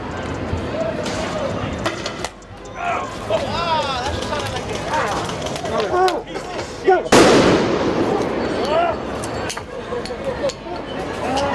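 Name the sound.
fireworks shot during street riot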